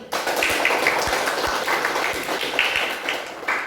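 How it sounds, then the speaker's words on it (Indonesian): Schoolchildren in an Indonesian classroom clap for their work groups, producing a scattered, uneven patter of hand claps with a few sharper individual slaps, close and moderately loud. "mari kita berikan tepuk tangan untuk kelompok kita masing-masing"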